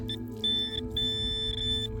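A Minelab Equinox metal detector sounds a steady, high-pitched signal tone in three sustained beeps over a low outdoor rumble during a dig in Ukraine.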